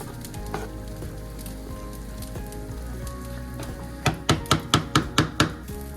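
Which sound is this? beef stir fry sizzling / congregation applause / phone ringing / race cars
beef stir fry sizzling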